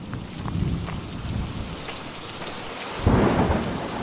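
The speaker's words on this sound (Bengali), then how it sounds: "যেভাবে মুষলধারে বৃষ্টি শুরু হলো" A thunderstorm with heavy rain: a dense, steady downpour hissing on surfaces, with low thunder rumbling throughout and a louder roll near the end, close and continuous, no voices.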